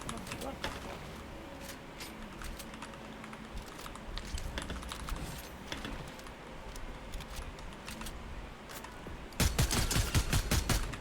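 Rapid bursts of video game gunfire in a team shooter, crackling shots scattered under clicking keyboard keys, with a dense loud volley near the end as players talk excitedly.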